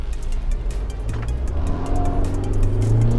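A 2020 Isuzu MU-X SUV pulls away hard from a standstill. The engine note swells steadily over three seconds with a rising, close roar and a brief hint of wheelspin, and no voices can be heard.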